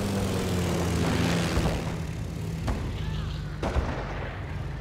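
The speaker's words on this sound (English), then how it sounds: "Oh, 2 planes going down at once." Anti-aircraft gunfire from a German Ostwind flak vehicle in the Company of Heroes game brings down two planes at once, with a steady roar of battle noise and a couple of sharp bursts and crashes standing out.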